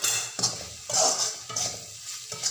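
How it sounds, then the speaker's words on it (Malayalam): Spice powders, including coriander, pepper and turmeric, are stirred in a frying pan, giving soft scraping strokes of a utensil against the pan in an uneven rhythm over a light sizzle. "ഞാനൊരു പച്ചമണം പോണ വരെ ഇളക്കി കൊടുക്കുക"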